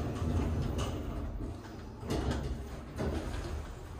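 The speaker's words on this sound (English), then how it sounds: "Doors closing." Sliding doors of a modernised Kleemann lift at Norwich Cathedral roll shut with a brief whirring rumble and a couple of light knocks, close and moderately quiet.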